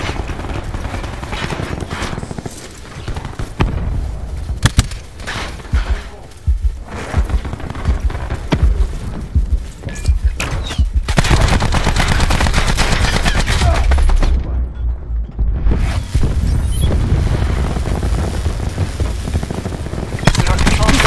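A sentry gun fires in a video game: loud, sustained rapid automatic gunfire with booming impacts that runs almost without a break, while game voice lines sound over the shooting.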